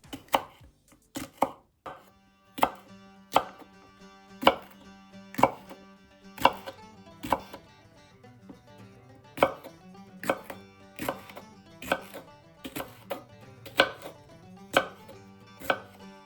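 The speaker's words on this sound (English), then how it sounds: "We're going to start by chopping up the jalapeno peppers into little slices." A knife slices jalapeño peppers on a cutting board, with sharp, distinct knocks arriving in an uneven but steady rhythm, some in quick pairs, close and clear with nothing else audible.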